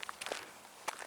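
Footsteps crunch along a desert road during a hike in brisk 70-degree weather, a few soft scuffing steps close by, quiet and brief, with no voice over them.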